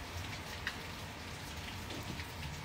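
Soft, steady rain falling on surfaces, a faint continuous patter with occasional distinct drops and no voices.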